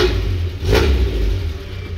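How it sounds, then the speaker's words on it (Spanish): A Volkswagen Caribe GT engine runs with a deep, steady exhaust rumble, close and loud, with a brief rise in revs around the middle before settling back to an even throb. "Vean qué bonito ronca este escape."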